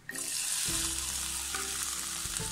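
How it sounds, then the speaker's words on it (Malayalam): Chopped onion and ginger-garlic paste sizzle in hot oil, a loud, steady, close frying hiss throughout, with a sharp burst as they go in and faint stirring knocks. "ഇനി നമ്മൾ കട്ട് ചെയ്ത് വെച്ചിരിക്കുന്ന സവാള അതുപോലെ ഇഞ്ചി വെളുത്തുള്ളി പേസ്റ്റ് നമുക്ക് ഇതിലോട്ട് ചേർത്ത് കൊടുക്കാം"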